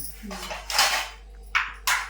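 Dishes and vessels being washed and scrubbed by hand in a home kitchen, with scattered clinks and scraping of plates and utensils, a few sharper clatters near the end, and people talking nearby.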